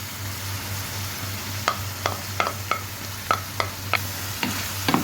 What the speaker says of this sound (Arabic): هننزل بالكبدة مقطعة في مكعبات، نقلب بس تقليبة خفيفة كده ونسيبها شوية